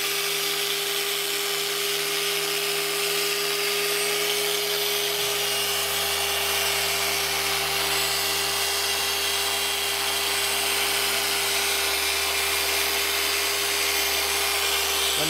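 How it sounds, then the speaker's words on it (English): A handheld polisher buffs a wheel, cutting with the pad's edge: a steady, loud motor whine with a constant hum runs without pause throughout, with slight shifts in load partway through. "using the edge of the polisher to do all my cutting"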